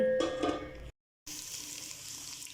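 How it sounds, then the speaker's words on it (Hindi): Onions fry in a cup of hot oil, giving a soft, close sizzle. A brief clatter comes first, then a short gap of silence, and then a steady quiet hiss. "अब इसमें डालते हैं प्याज और प्याज़ों को करते हैं हम ब्राउन"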